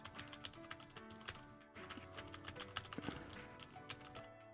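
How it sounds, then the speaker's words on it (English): Typing on a computer keyboard that is not pleasant to listen to, a steady run of close, fairly quiet key clatter with no talking. "Like the keyboard I have right now is not the most pleasant to listen to."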